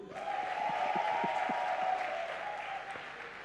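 A church congregation applauding during a worship service: dense, steady clapping from a crowd that holds evenly for about three seconds before easing slightly.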